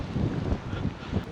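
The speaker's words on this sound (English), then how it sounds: "That wind is not incredible." Wind blusters across a microphone outdoors on a street in Larbert, a short, close, low rumbling buffet that holds steady with no speech.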